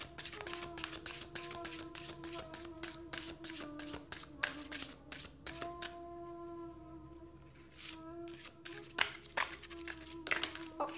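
Very large oracle cards are shuffled by hand in quick bursts of soft, papery riffling and slapping, close but quiet, with short pauses between bursts over a low background hum.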